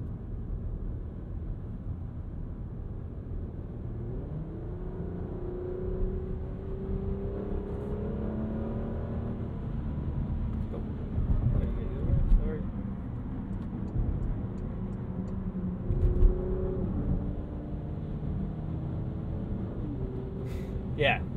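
A 2023 Porsche Macan S sweeps through a turn at speed in sport mode, its engine holding a steady low drone over road rumble that swells a few times as it pulls through the bend.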